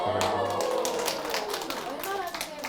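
An audience at a Korean lecture show claps, a dense patter of many hands filling the clip at close range, with voices mixed in.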